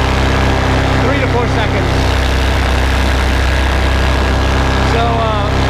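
A Virus paramotor engine, started electrically, idles loudly and steadily close by, a constant low drone while a person talks over it.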